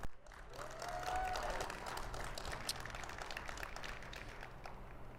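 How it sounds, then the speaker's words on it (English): Applause from the audience at a nonprofit community gala honoring Southern California nonprofits, a steady, moderately loud wash of clapping through the whole stretch with faint background voices and some tonal sound underneath. "Let's give a round of applause to all of them."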